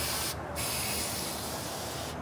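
An aerosol cleaner hisses onto a car battery during maintenance, a close, loud, steady spray lasting about two seconds with a brief dip near the start and no voices over it.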